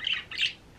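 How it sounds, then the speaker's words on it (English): A small bird gives two quick, bright chirps in a row, fairly close and clear, with a quiet room behind and no one talking. "That's local chirping."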